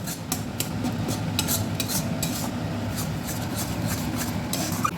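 A spatula scrapes and stirs Lote fish curry in a wok as it dries down, making repeated close scraping strokes over a low cooking rumble with no talk.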